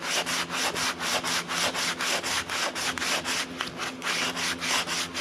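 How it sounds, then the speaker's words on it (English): Sandpaper on a foam block rasps over body filler on a GM truck rocker panel and cab corner in steady back-and-forth strokes, close and rhythmic, with no voices. "sanding body filler is what it is"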